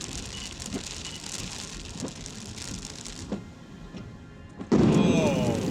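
Steady rain patters and hisses continuously, with a few soft thumps, before a louder, nearer rush of noise takes over at the end.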